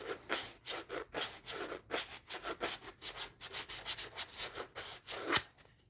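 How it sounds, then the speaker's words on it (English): Sandpaper rubs back and forth across a wooden surface in quick, even strokes, close and fairly quiet, with a slightly sharper scrape near the end and no talking. "Sanding, sanding, sanding."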